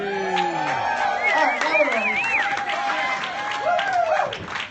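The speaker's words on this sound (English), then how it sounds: "please put your hands together for Brian Fanzo" An audience applauds and cheers as keynote speaker Brian Fanzo is welcomed, steady clapping throughout with whoops, while a voice talks over it.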